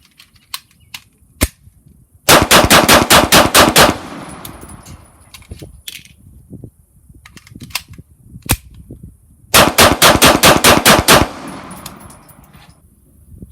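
HK P7 pistol firing Black Hills 115 grain FMJ rounds: two rapid strings of about eight sharp, loud shots each, separated by quiet handling clicks and clatter, with no talking.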